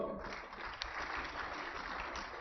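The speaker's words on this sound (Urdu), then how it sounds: "فوکر صاحب ہمارے ایکسپورٹر ہیں تو انہوں نے تالیاں بجائیں سب سے پہلے" Audience applause after a speech on Pakistan's exports by former finance minister Miftah Ismail: a steady, dense wash of clapping from a crowd, fairly distant and even throughout, with no talking over it.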